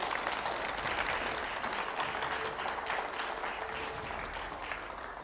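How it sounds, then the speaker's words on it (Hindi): Loud, sustained applause from a large audience at a public talk show event, dense and continuous clapping that fills the whole stretch and tapers slightly at the end, with faint crowd voices mixed underneath. "जरा जोरदार तालियां हो जाएं साहब"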